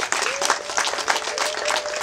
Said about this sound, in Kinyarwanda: Reka bafotora dukomere Imana amashyi.